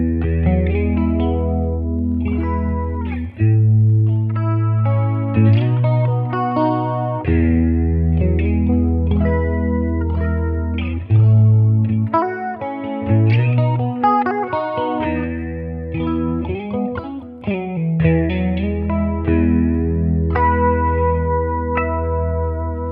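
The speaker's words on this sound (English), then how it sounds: "Love that sort of swooshy 80s chorus thing." Electric guitar runs through an 80s-style chorus on a Line 6 HX Stomp XL, giving shimmering, swirling chords and picked notes with slight distortion, played alone with no talk.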